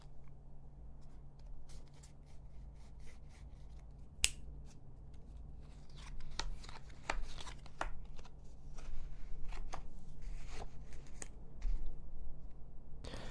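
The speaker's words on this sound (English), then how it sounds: "I'm gonna take half the cards face up and half the cards face down and shuffle them face up to face down." Playing cards handled and shuffled face up into face down at close range, soft flicking riffles and crisp snaps in quick irregular bursts over a low steady hum, quiet and intimate.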